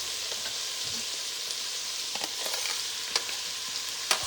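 Oregano and garlic sizzle and fry in a pan while a utensil stirs them, a steady hiss with occasional scraping taps close by and no talking.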